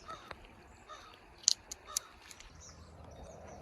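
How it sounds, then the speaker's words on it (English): A few crows caw sporadically in the distance over a quiet outdoor background by a wide, shallow creek, with faint ambient noise between the calls. "there's a bunch of crows out there"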